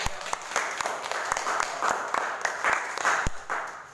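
Classroom audience applauding a student group's procedure-text presentation, a steady patter of claps with sharp individual hits throughout, mixed with some crowd voices.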